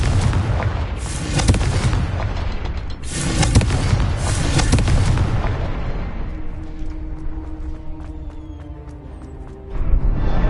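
A Confringo fire spell explodes in the Hogwarts Legacy video game, loud booming blasts with a burst near two and a half seconds, then a rumbling decay and quieter game ambience with a late thump.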